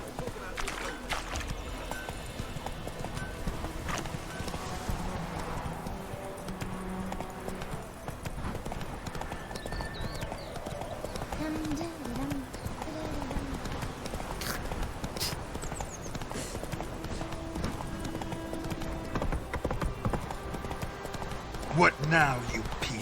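A horse gallops in The Witcher 3: Wild Hunt, rapid rhythmic hoofbeats running steadily throughout under game music and ambience, with voices speaking intermittently over the top.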